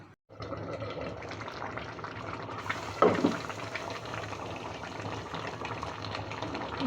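Beef liver curry with potatoes simmers in broth under a lid, giving a steady soft bubbling hiss that stays even throughout, with a brief clatter near the middle.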